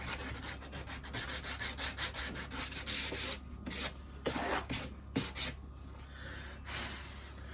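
A wooden cigar box guitar fretboard for a tin lid resonator build has its sharp edge sanded down by hand: close, steady rhythmic rubbing and rasping strokes with brief pauses, no talking.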